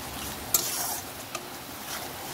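Spice masala for chicken kosa frying and being stirred in a pan with salt added, giving a steady soft sizzle with an occasional sharp clink of a spoon against the pan.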